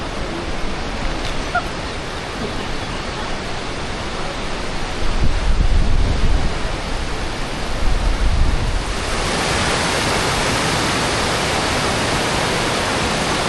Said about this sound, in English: Let you enjoy the waterfall.